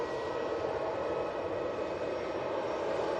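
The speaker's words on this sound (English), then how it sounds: "We will jump on to the easyJet, just coming onto 23 left." An easyJet A320-200 taxiing onto runway 23 left produces a steady, even jet engine hum with a faint whine, constant and moderately loud, with nobody speaking.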